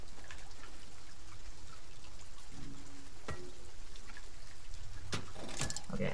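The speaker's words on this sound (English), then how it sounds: "And it's raining out here." Steady rain falling outdoors in the video game Silent Hill 2, a continuous even hiss of water with a few faint knocks and clicks mixed in, no one talking.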